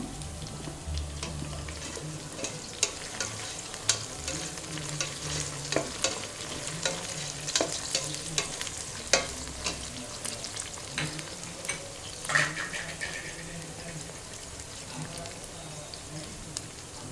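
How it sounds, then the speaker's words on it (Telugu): Onions frying with green chillies and curry leaves for chicken 65 biryani, a soft continuous sizzle under irregular clinks and scrapes of stirring, moderately close and fairly quiet throughout. "ఆనియన్స్ వేగిపోయి ఇప్పుడు దీంట్లో పచ్చిమిర్చి కరివేపాకు వేస్తున్నాను నేను"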